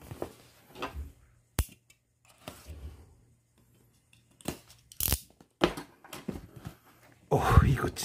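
A gift package is unboxed at close range, with crinkling, tearing and rustling of the wrapping in short bursts between stretches of quiet, ending in a louder crumpling rush. Someone speaks softly.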